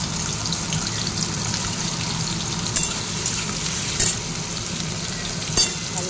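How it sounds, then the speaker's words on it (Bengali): Cut potatoes fry in oil in a pan for a red spinach dish, making a continuous close sizzle with stirring and a few sharp clicks and clatters, without speech. "তেলের মধ্যে আলুগুলো দিয়ে দেবো।"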